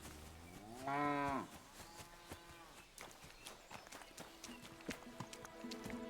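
A horse in the medieval game Kingdom Come: Deliverance II lets out a short, loud, tonal vocal call, followed by a steady run of clip-clopping hoofbeats that continue at an even pace, fairly close.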